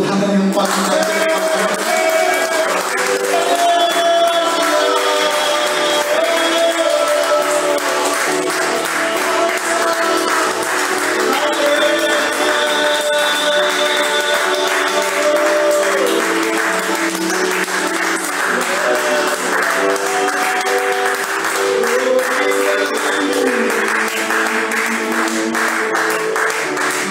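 A church congregation claps and applauds steadily for nearly half a minute, with music and singing carrying on beneath the clapping.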